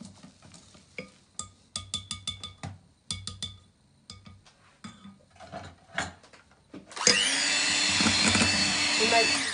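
An electric mixer whirs steadily through apple cake batter after a run of short clinks and scrapes of a utensil against a bowl. The motor comes in loud and close, running continuously to the end.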